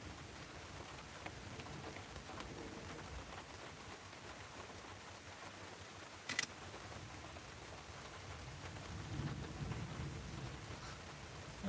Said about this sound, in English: the rain's just about to get very heavy